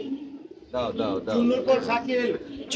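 Pigeons at a pigeon club tournament coo in several soft, rolling bursts, with voices talking over and between them throughout.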